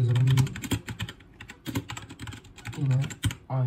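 Fast typing on a T60 mechanical keyboard with red switches, a close, continuous patter of soft-clacking keystrokes with heavier bottom-out thumps and occasional louder hits, no talking.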